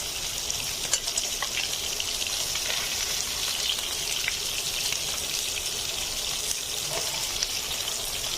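Bata fish sizzling in hot oil in a home kitchen, a dense continuous crackle and hiss with scattered sharper pops, steady and close throughout with no voices.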